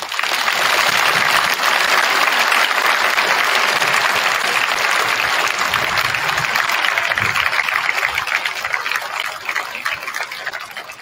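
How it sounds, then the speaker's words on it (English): An audience at a school Veterans Day program claps loudly for veterans, a dense sustained round of applause that holds strong for about eleven seconds and tapers slightly at the end. "They definitely deserve a big round of applause."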